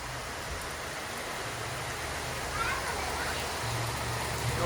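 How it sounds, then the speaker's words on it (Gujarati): Heavy monsoon rain pours down in a dense, even hiss that grows slightly louder partway through, with voices faintly present under the downpour. "વરસાદ આવી ગયો મિત્રો ફાઇનલી ફરીથી પાછો"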